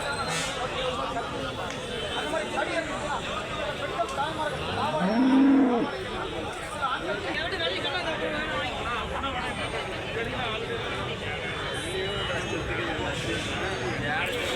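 A cow lets out one loud, drawn-out moo near the middle, rising over a steady background of people chatting and farmyard noise at a cow market in Karimangalam, Tamil Nadu.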